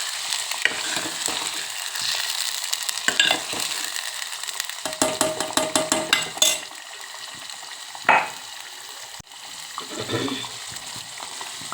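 A spoon stirs pav bhaji gravy through hot oil in a pan, giving a steady sizzle with scraping and clinking against the pot, including a run of quick rhythmic taps partway through.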